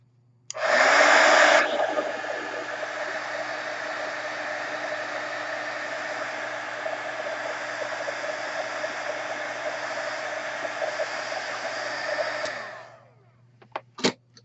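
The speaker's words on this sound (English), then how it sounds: "So, get a heat tool." Heat tool blowing hot air to dry ink on a craft piece: a steady, loud whooshing blast that runs unbroken for about twelve seconds, then cuts off, followed by a couple of faint clicks.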